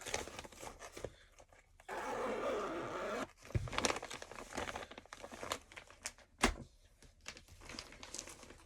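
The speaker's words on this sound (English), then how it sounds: "I'm just rattling paper" Paper rattles and crinkles close by in a quiet craft room during cross-stitch floss handling, in short irregular bursts and one longer rustle, with no talk.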